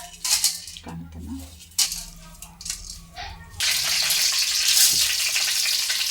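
Meat frying in oil in a pot for a trouser-leg soup, first as scattered pops and clatter, then a steady loud sizzle that fills the last half, with a faint voice early on.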